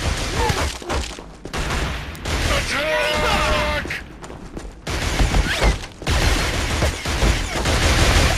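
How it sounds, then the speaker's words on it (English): Bursts of rapid gunfire and explosions in the shooter video game Killzone, with loud rattling volleys broken by short pauses and shouted voices mixed into the battle. "Taking heavy fire!"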